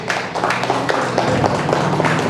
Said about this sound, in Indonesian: Saya dengan hormat kita tepuk tangan untuk Mas Salahuddin